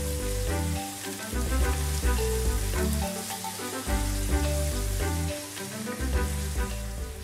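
Chicken pieces sizzle in a hot pan with caramelized sugar while being stirred, a steady frying hiss with light scrapes largely covered by loud background music.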